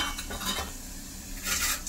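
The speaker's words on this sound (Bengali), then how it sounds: "তো জিরাটা একটু ভালোভাবে ভাজা হোক, আমি একটু নেড়ে চেড়ে দিচ্ছি যাতে ভালোভাবে ভাজা হয়ে যায়।" Whole cumin seeds fry in hot oil while a utensil stirs and scrapes the pan, giving a close crackling sizzle with metallic clinks over two seconds.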